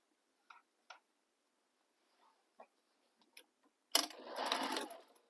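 A sewing machine top stitches the mountain folds of a sling bag: a few faint isolated ticks and clicks, then a loud close burst of steady stitching near the end.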